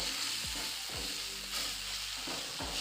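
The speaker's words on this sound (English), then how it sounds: "after adding your spices as well, get to mix them well" Chicken stew cooking with spices stirred in, making a continuous sizzle and bubbling with several soft periodic scrapes of a utensil against the pot, and no one speaking.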